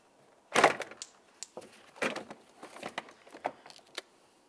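Front door panel of a Mercury Grand Marquis lifted off the door: a sharp plastic clack, then several softer knocks, clicks and rattles of the trim and lock parts, close and fairly quiet with no talk.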